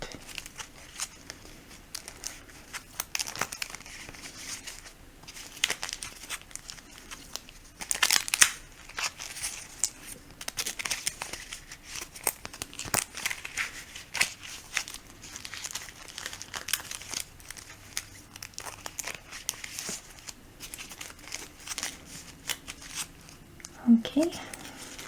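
Paper slips are shuffled and crinkled by hand in a quiet ASMR setting, giving soft, irregular rustling and crumpling bursts at close range, with a few sharper crinkles and soft talking at moments.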